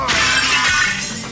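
A glass window shatters in an audio drama as a man is thrown through it: a single loud crash of breaking glass with a scattering tail, heard alone.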